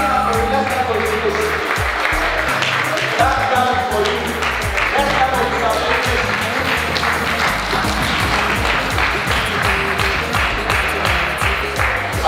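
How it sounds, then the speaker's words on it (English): Audience applause at a summit finals event in a hotel, loud and dense clapping from a sizable crowd, sustained throughout with some crowd murmur mixed in. "Put your hands together for Mr."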